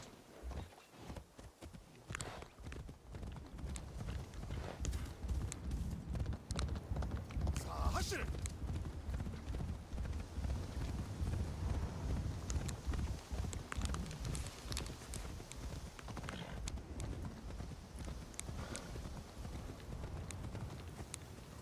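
Horse hooves clip-clop steadily at a walking pace in the Assassin's Creed video game, continuous and moderately loud over game ambience, with someone talking over parts of it.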